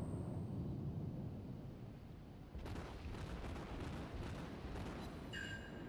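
Main guns of the warship Ishizuchi in World of Warships open fire with a sudden heavy boom that rolls on as a rumbling blast over constant low engine and sea noise, with a few faint tonal beeps near the end and no talking.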